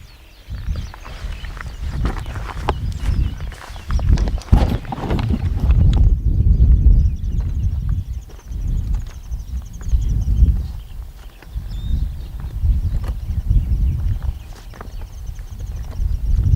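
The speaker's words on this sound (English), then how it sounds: "There's nothing quiet about stalking around in this volcano rock with a tripod that's made of metal." Footsteps crunch over volcanic rock while someone stalks with a metal tripod, irregular scraping clatter and knocks at close range, rising and falling in bursts across rugged outdoor ground.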